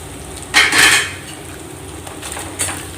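Fried yam chips are tossed into sautéed masala in a pan for a senai kilangu varuval, giving a couple of scraping, clattering stirs against the metal with quiet gaps between.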